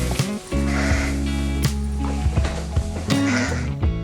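Sheep bleat in a farm barn, several voices calling over one another in close, steady, overlapping cries with no talking.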